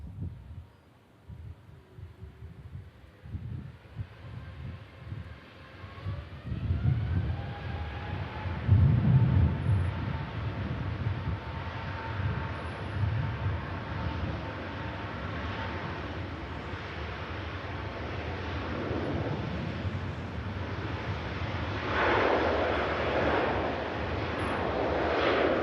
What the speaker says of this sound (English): Emirates Airbus A350-900 series lining up on runway 23 left for the departure today